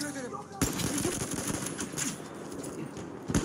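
Rapid bursts from a medic's rifle in the Battlefield 1 shooter, sharp close shots in quick succession over background battle noise, with a player talking.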